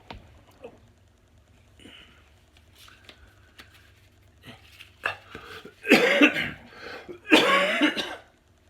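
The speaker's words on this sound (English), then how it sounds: "Still got the cough." A couple of harsh, close coughs burst out after some quiet rustling and faint clicks.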